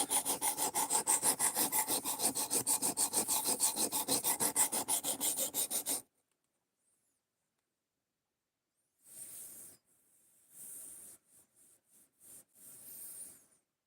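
A woodworking chisel is ground to reshape its bevel, first with about six seconds of steady rhythmic rasping strokes, close and loud, then silence, then several shorter bursts of hissing abrasion.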